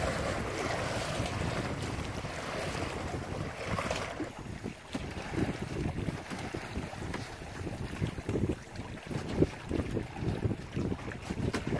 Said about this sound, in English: We've got wind.